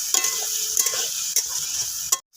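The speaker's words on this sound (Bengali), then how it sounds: "এবার মশলা আর পটলকে আমি 2 মিনিট মতো ভালো করে নেড়ে নেব" Pointed gourd pieces stir-fried in a cumin and coriander paste sizzle steadily in a pan, broken by several sharp scraping strokes of a spatula, close and alone before a sudden cutoff.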